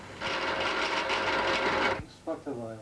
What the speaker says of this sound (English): Now I'm going to drill 2 little holes in each end of the shield plate